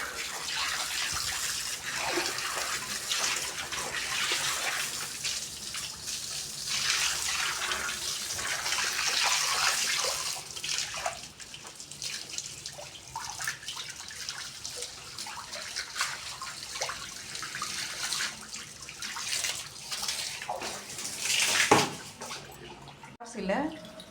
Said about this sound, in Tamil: இதுவாக கழுவுங்க தண்ணி வச்சு,